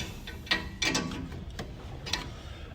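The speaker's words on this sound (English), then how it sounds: "then we'll tighten our lock nut. Once again, just a 9/16 wrench down here" A 9/16 wrench ratchets and clicks while tightening the lock nut on a park brake adjuster, heard as a few close, crisp mechanical clicks and scrapes.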